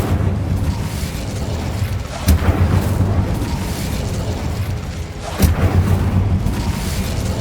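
Incendio fire spell being cast in Hogwarts Legacy on PS5, heard as two loud booming bursts of flame about three seconds apart over a steady rumbling game soundscape.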